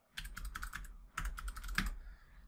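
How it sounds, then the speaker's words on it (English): Quick bursts of typing on a computer keyboard, rapid clustered keystrokes in two runs separated by a short pause, crisp and close with no speech. "I'm typing too fast today."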